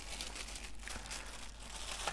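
Plastic bag crinkling while a boxed lapel microphone is unboxed, a continuous close, soft rustle and crackle with no speech.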